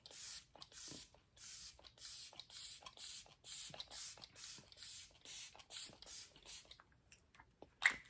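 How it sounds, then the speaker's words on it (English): Repeated short bursts of fine face mist spraying, about a dozen quick hisses in a steady rhythm, close and fairly quiet with small pauses between. "So I would just spray your face."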